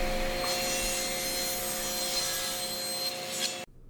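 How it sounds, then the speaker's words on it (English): Sustained, loud miter saw cutting wood for rustic wall cabinets, a steady whining grind with a high tonal ring, running about three and a half seconds before stopping abruptly. "I'll make the cuts here for the cabinets directly over the miter saw."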